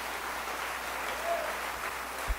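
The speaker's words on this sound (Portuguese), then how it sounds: "Você pode aplaudir o nome de Jesus?" A church congregation applauding during a sermon: soft, steady, dense clapping at a distance, with no talking over it.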